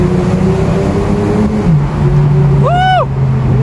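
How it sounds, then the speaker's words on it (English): Subaru car engine revving up nearby, a loud steady drone rising into a brief higher-pitched rev near the end, with ambient noise underneath. "Why your car sounds so good?"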